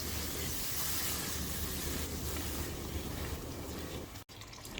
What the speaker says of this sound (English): Let's add 1 cup of water to this.